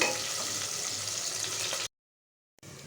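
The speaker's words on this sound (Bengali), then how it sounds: "পেঁয়াজগুলো একটু ভেজে নেব।" Sliced onions and two green chillies frying in oil in a pan, a steady hissing sizzle close by that cuts out abruptly into silence, then returns faintly.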